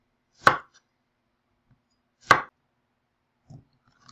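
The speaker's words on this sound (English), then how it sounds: "Begin, of course, by slicing the cucumber." A knife slices through a fresh cucumber with the skin left on, giving two crisp, well-spaced chops on a board, followed later by a couple of soft, faint taps.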